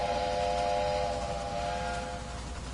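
A steam locomotive whistle in the railroad video game Railway Empire gives one steady, loud, multi-tone blast lasting about two seconds over a hissing, rumbling background.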